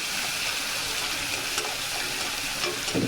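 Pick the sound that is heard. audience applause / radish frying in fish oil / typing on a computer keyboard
radish frying in fish oil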